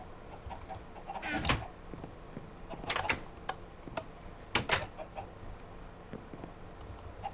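Chickens cluck in the video game Minecraft, a few short bursts spaced across a quiet background with small clicks, fairly faint and with no talk.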